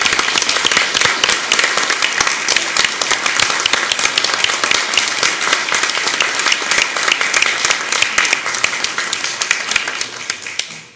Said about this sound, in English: if you'd stand so that we can just recognize you public with applause